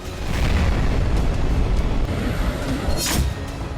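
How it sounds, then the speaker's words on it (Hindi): A heavy anti-tank mine blast wrecking armoured vehicles in a war zone, with a deep rumbling roar that rolls on for several seconds and a sharper burst near the end, loud and without talk. "यूक्रेन ने एंटी टैंक माइंस से धमाका कर रूस के आर्मर्ड व्हीकल्स को तबाह कर दिया"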